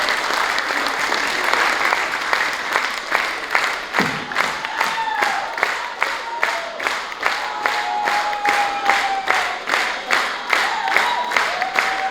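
A loud, sustained round of audience applause, with dense clapping that settles into a rhythmic, pulsing ovation. It carries on steadily throughout, with a faint voice underneath.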